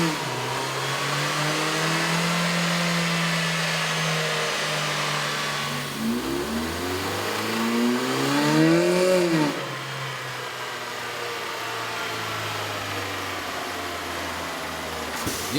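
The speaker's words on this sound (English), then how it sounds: "we ran the vehicle on the dyno to test the sound comparison versus the stock intake" A 2011 Ford Fiesta 1.6L engine fitted with an aftermarket air intake revs on a dyno, a steady loud drone that climbs and dips through a sharp rev sweep midway before settling back to a constant pitch, with no voices.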